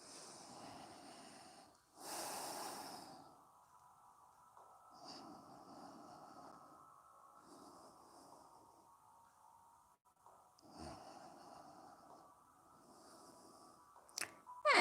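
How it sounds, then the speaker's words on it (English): Nasal breathing during a yoga session, slow airy inhales and exhales through the nose spaced a few seconds apart, close and soft, with one louder sharper breath early on. "Breathing through your nose."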